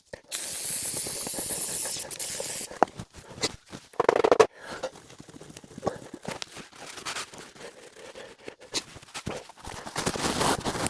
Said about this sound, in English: now to lube it up, I'm going to use Lucas Oil Chain Lube